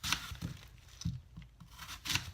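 A knife cuts down through an apple in a few short, crisp slicing and crunching strokes, close by and fairly quiet, with no talking.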